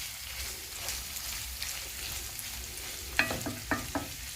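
Tripe and onions stirred in a frying pan, a steady soft sizzle throughout with a few louder scraping stirs near the end, close and alone without talk.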